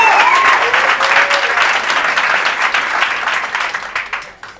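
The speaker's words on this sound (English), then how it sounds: "Give him a round of applause." An audience at a StartUp Grind event gives a round of applause, a dense, loud burst of clapping that slowly thins and fades out over a few seconds.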